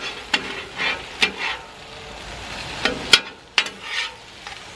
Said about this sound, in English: Now we start mixing it.